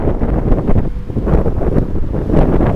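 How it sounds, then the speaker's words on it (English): Strong south wind roars across the microphone on a Honda ST-1300 motorcycle on the move, a loud, continuous buffeting rumble that surges and eases, with no voices. "we've got a pretty strong wind from the south"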